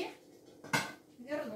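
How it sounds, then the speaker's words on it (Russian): A khachapuri pan lifted off the stove gives a short metallic clank of dishes and cutlery amid faint kitchen clatter, with soft talk around it. "Сейчас я сниму с плиты первый мой хачапури"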